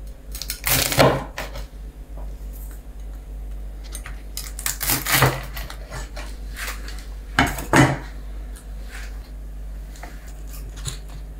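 A crunchy chicken shawarma sandwich is cut with a knife on a board, giving bursts of crackling crunch at intervals with clinks and scrapes between them over a steady background hum, close up and without talk.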